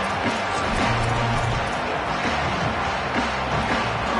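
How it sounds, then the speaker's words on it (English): A college football stadium crowd roars steadily for the defense in a clutch moment, a dense, distant wall of cheering and noise with a commentator's voice over it. "this crowd trying to give its defense some energy in a clutch spot"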